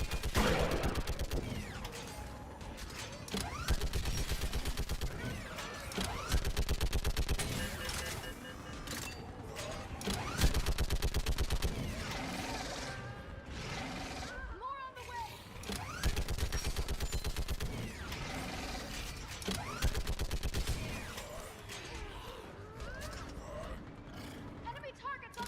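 In the Mass Effect video game, a mounted gun fires in rapid, sustained bursts alongside mechanical clanks and other battle noise, fairly near, with characters shouting over it.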